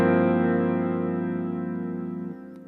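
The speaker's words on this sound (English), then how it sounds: "I have a close-up shot of my guitar with just a clean tone on it." An electric guitar played with a clean tone rings out as a single sustained chord, close and clear, slowly decaying over a few seconds with a slight shift near the end.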